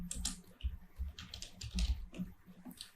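Keys clack in quick irregular bursts on a computer keyboard as a command is typed, close and moderately loud with short pauses between runs of keystrokes.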